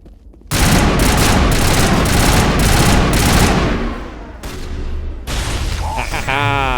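Rapid gunfire bursts in a space adventure video game, loud and dense for several seconds, then tapering into scattered shots and electronic effects.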